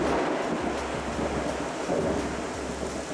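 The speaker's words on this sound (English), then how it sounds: "This then becomes a sound wave, reaching the human ear as thunder." Low rolling thunder rumbles under a steady hiss of rain, a continuous stormy wash without any voices.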